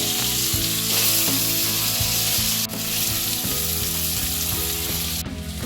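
Thick-cut potato strips fry in hot oil in a wok, a continuous loud sizzle with occasional stirring clinks and scrapes, no voices.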